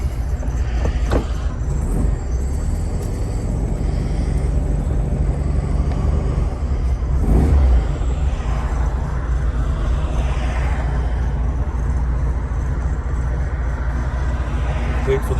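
A 1968 Volkswagen Karmann Ghia with a 1.6-liter four-cylinder engine idles steadily after a cold start, warming up with a low continuous rumble and a brief louder swell partway through.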